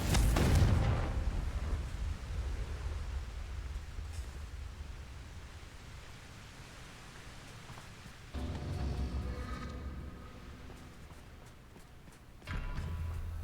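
A Confringo blasting spell explodes in Hogwarts Legacy with a loud burst right at the start, then fades into a low rumbling ambience, with a couple of further surges of noise later on.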